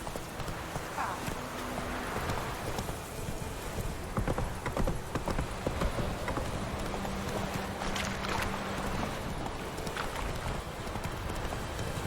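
A horse gallops in The Witcher 3, its hoofbeats drumming rapidly and continuously over a dense, rushing background, with a voice speaking briefly.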